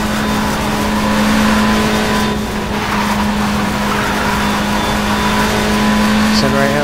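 A race car in the WTCC 07 touring-car video game drones loudly and continuously as it accelerates out of corners, its steady engine tone holding throughout with a brief rising whine near the end.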